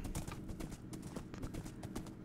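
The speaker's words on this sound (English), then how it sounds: "So I'm going to grab my horse here, and we are just going to ride over there briefly" Horse hooves clip-clop at a steady quick rhythm while riding a horse in the Minecraft video game, a continuous close run of beats lasting the whole moment.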